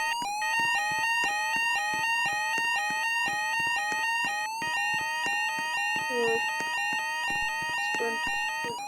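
Video game fire alarm blaring loudly and steadily throughout, a repeating electronic tone with regular pulses and harmonics, with brief faint voice-like sounds near the end.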